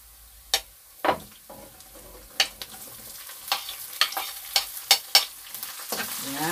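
Garlic and onion sautéing in a pan for fish sarciado, a low sizzle broken by sharp scrapes and clinks of stirring at irregular intervals, close and fairly quiet, with no talk.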